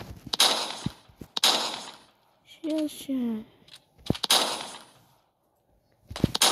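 Sharp gunshots ring out in the Melon Playground video game, several short loud cracks spaced a second or so apart, with someone speaking briefly between them.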